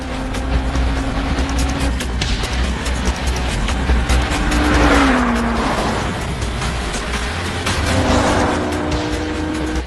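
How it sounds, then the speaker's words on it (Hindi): Lotus and Alfa Romeo race cars battle on a circuit, high engine whine rising and falling as they pass close by, with loud, continuous roaring throughout and no speech. "इन दोनों कार्स के बीच में फंसना कनाटा के लिए बहुत ज्यादा पेचीदा साबित होगा।"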